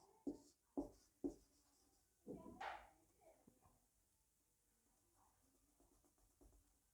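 Handwriting with a pen on paper, close and faint: three quick taps, then a longer scratchy scrawl, followed by softer, sparse strokes.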